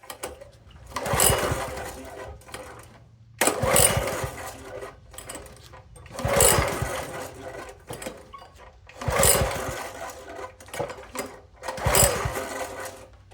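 Honda GX200 engine on a Toro SG-6 stump grinder, freshly fitted with a new carburetor, cranked over again and again in five separate bursts of pull-start sputtering, each briefly catching then dying, close by with no voices.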